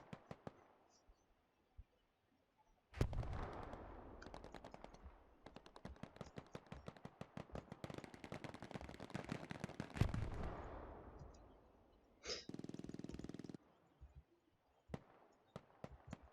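Artillery shells and gunfire in a Hell Let Loose tournament match: rapid machine-gun bursts crackle almost continuously for several seconds, punctuated by heavy shell impacts, then a brief lull before a sustained blast and scattered final shots.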